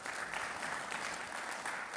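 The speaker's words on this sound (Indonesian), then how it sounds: "Tepuk tangan dong." Audience applause at an Indonesian anti-narcotics event, a steady, fairly faint wash of many hands clapping together with no voices on top.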